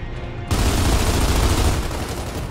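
Dense gunfire from the Xbox 360 shooter Gears of War 2 bursts in abruptly and continues as a loud, sustained barrage of rapid shots for about two seconds.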